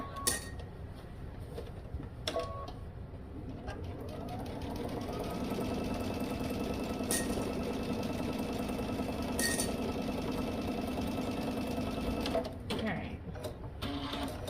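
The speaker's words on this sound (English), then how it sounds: "I just basted, but I'm gonna go back and put another stitch in it." A sewing machine runs a steady stitching whir along a godet seam, starting after a few light clicks and holding an even drone for about ten seconds, close up, with a couple of sharp taps near the end.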